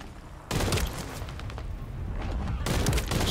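Rapid semi-automatic gunfire in The First Descendant, a dense, loud stream of close shots with a short gap near the start and another brief break late in the burst.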